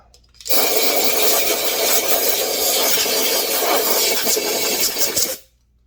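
A Stihl MS 291 chainsaw with a modified muffler runs loud and close for about five seconds, a steady high-revving rasp that starts abruptly and cuts off near the end.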